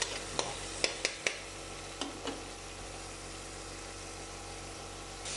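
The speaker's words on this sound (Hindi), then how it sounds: "थोड़ा सा हम इसे फ्राई करेंगे" Ginger garlic paste frying in a pan gives a soft, steady sizzle broken by a few sharp clicks and scrapes of stirring near the start.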